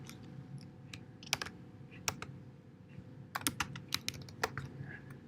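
Typing on a computer keyboard, a sparse string of light key clicks tapping at an uneven pace, close but quiet against a low room hum, with no one speaking.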